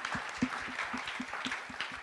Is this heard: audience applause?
yes